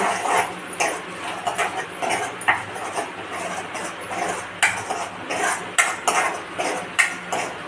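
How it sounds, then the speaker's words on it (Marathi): A spoon stirs spices, turmeric and salt, into green moong sprouts kadhi in a pot, giving a close run of repeated metallic scrapes and clinks at an uneven rhythm with no talk. "मिक्स करतो"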